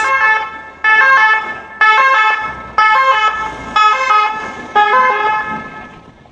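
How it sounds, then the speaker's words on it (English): A loud ambulance siren wails in a repeating two-tone pattern, six even cycles, close by with faint traffic underneath. "Oh, it's an ambulance."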